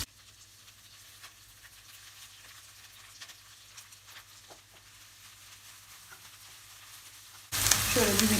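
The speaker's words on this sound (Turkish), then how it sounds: "Isınan yağın içerisine biberlerin yarısını alıyorum." Halved peppers drop into heated oil in a frying pan for a canned menemen, and after a long near-quiet stretch a sudden loud, dense sizzle bursts in and fills the final second.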